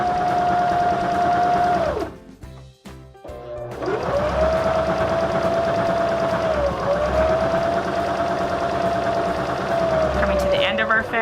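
A Baby Lock Zeal sewing machine stitches tucks with a loud, steady motorised whir close by, pausing briefly in the middle with a few clicks before resuming, under a person talking.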